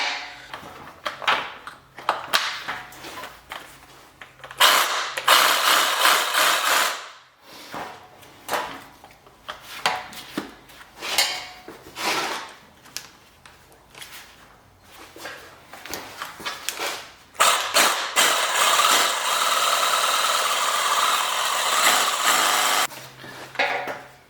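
A reciprocating saw rigged to shake an aerosol paint can runs in loud bursts, its buzzing motor starting and stopping repeatedly, with a long sustained run toward the end, close by and alone.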